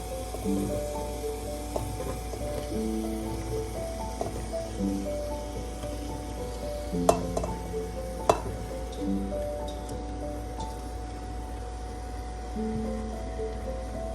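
Pattypan squash frying and being stirred into a hot spice tempering in a pan, a steady sizzle throughout with scattered clinks and scrapes of a utensil and a couple of sharper knocks, no talking.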